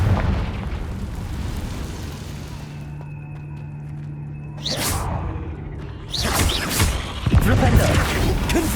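Confringo fire spell explosions in Hogwarts Legacy, heard as whooshing bursts and booms amid game music and effects, with a player's voice calling out spells over the action.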